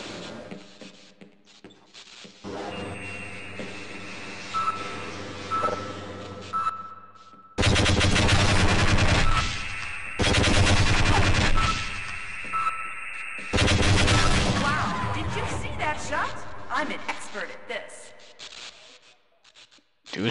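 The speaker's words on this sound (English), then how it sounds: "Do you really shoot at me?" Sustained rapid gunfire from a shooter game, Half-Life: Azure Sheep, fills the clip in loud bursts with echoing booms between them, and a voice talks in places under the shots.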